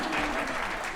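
Audience clapping after a Baroque piece by Purcell at a soirée, a brief burst of dense, even applause.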